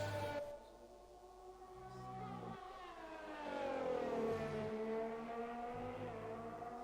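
Racing car engine in a Formula 1 video game at Bahrain, a steady high whine rising and falling in pitch through a corner, alone with no talk.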